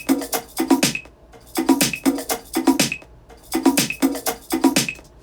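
A producer's percussion loop with snares plays in a studio, with three repeated bars of crisp, close hits in a steady rhythm, each bar ending in a short gap.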